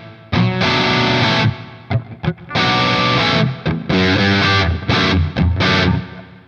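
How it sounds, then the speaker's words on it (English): Distorted electric guitar through a Revv Generator MKIII amplifier plays chords and quick riffs with a washy reverb tail, loud and close, with brief pauses between phrases. "Let's put some reverb on that."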